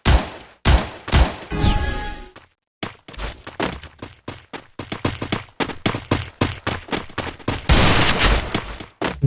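Rapid gunfire in the shooter game Free Fire, loud and close, with repeated bursts and single cracks coming in a fast, uneven rhythm for about nine seconds.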